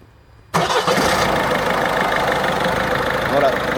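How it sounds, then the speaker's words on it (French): A diesel car engine with HDI injectors cranks and catches abruptly, then settles into a loud, steady diesel rumble that keeps running without a break. "donc là le moteur démarré"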